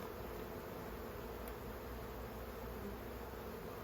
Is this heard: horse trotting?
no